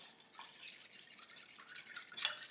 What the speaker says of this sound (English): now we're just going to give everything a mix